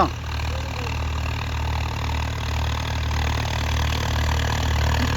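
A Swaraj 855 tractor engine running in a field, a steady low throbbing drone with an even rumble throughout, fairly loud and close, no voices.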